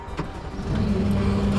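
A construction vehicle's engine starts up in the snow. A brief cranking stutter gives way to a loud, close, low rumbling idle that holds steady.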